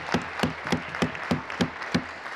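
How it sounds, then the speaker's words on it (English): A few members in a parliamentary chamber clap during question period, sharp separate claps at an even, unhurried pace with a slight room echo. "Yes, that is worth clapping for."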